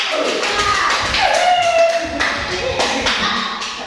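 Hands clap in a school classroom during a lesson, a scattered patter of claps running under a voice that talks throughout.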